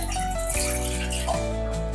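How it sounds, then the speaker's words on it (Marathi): Water poured into a cooking pot on the stove for a spicy clam curry, making a continuous splashing pour with a shifting pitch as the pot fills. "गॅस ऑन करते त्याच्यामध्ये आपण पाणी टाकून घेऊया"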